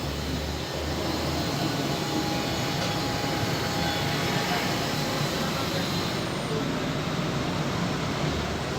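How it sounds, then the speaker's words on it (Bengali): A passenger train from Dhaka to Kushtia slowing after coming off a bridge: a loud, steady broadband rumble heard from on board, with a faint voice over it. "আমাদের ট্রেনটা এখন একটু স্লো করছে ব্রিজ থেকে নামার পরে"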